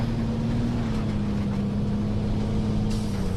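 A mobile artillery vehicle drives in the video game Battlefield 4, its engine holding a steady, loud droning rumble with a constant low hum for the whole stretch, no voices over it.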